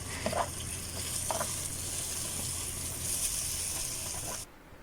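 Boiled rice dropped into a pan of hot garlic butter, a loud steady sizzle and hiss from start to finish with a couple of soft stirring scrapes, cutting off abruptly at the end.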